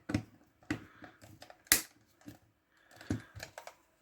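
Small screws come out of a KidiZoom Sport kids' camera during a teardown: a quiet run of sharp, close plastic-and-metal clicks and ticks at an uneven pace, with no talk.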